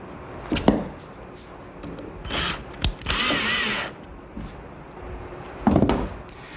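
A power driver sets a single screw into the side skin of a Clancy boat near the top corner, with a few short whirring bursts, the longest and loudest lasting under a second, amid quieter handling clatter.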